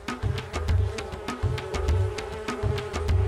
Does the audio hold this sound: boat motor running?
no